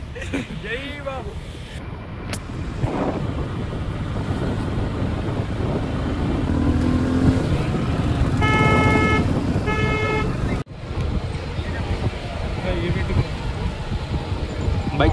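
Steady road traffic outside a crowded event venue for a film title launch, with cars passing continuously and a couple of short horn toots partway through, amid wind noise and background voices.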